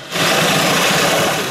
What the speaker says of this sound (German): ich muss hier jetzt noch ein Löchli bohren, dass das Dreibein einen sauberen Halt hat